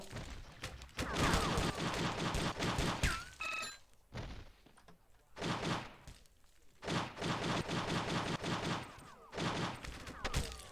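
Loud bursts of rapid automatic gunfire in the video game True Crime: Streets of LA, repeated in long volleys with brief gaps.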